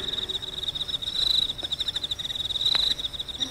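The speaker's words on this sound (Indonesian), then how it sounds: "Bunyi katak dan cangkrik melulu yang kudengar." On a cold, dark night, crickets chirp in a steady high pulsing trill with a few faint frog croaks beneath, a continuous outdoor chorus at moderate distance with no voices.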